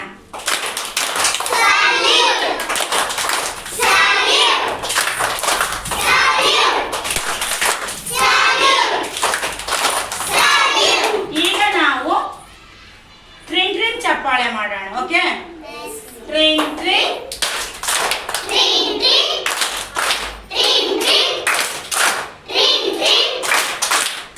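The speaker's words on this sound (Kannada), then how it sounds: "ಎಲ್ಲರೂ ಒಟ್ಟಿಗೆ ಕ್ಲಾಪ್ ಮಾಡ್ರಿ ಪ್ಲೀಸ್" Schoolchildren clap their hands together in a classroom, a dense run of rhythmic claps filling most of the stretch, with a short pause midway and children's voices talking over and between the clapping.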